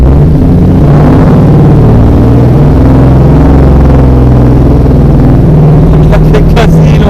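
A 1954 Jaguar XK120 OTS with its XK straight-six roars loudly and continuously while driving on the road, a dense low mechanical drone with a voice talking over it.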